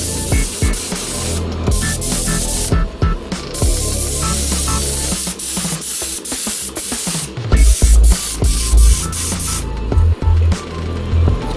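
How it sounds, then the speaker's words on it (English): A paint spray gun hisses in repeated bursts on an RC army personnel transporter model, loud and close, with short pauses and clicks between passes. "I'm using this spray gun."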